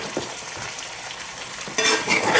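Potatoes and onions fry in a pan with a steady close sizzle and a few light stirring scrapes, the hiss swelling louder near the end.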